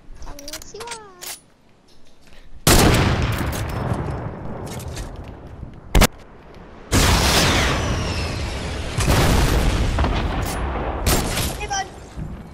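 Heavy sniper rifle shots in the Fortnite video game, a few loud sharp cracks each followed by a rumbling tail, set against game effects and a busy background.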